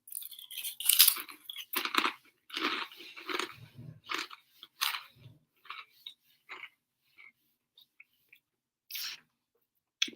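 Crunchy Waitrose snacks chewed close to the mic, with irregular bursts of crisp crunching and biting separated by short pauses and no talking.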